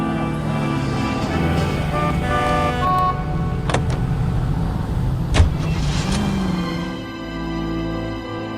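A car driven through city streets in the video game L.A. Noire, its engine droning steadily and fairly loud throughout, with a few brief clunks partway and the engine note easing toward the end; no one speaks.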